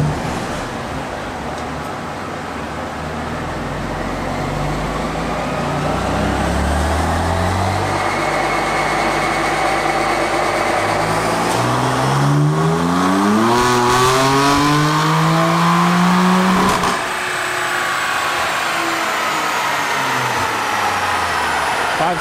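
A BMW F82 M4 tuned with EcuTek runs a dyno pull, its engine climbing steadily from a low drone to a loud, strained high-rpm roar, then dropping off abruptly near the end.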